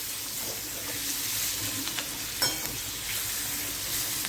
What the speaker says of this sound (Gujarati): અને આવી રીતે મિક્સ કરી અને તળી લેવાના છે